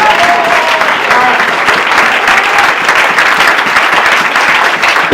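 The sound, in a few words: congregation applauding during church service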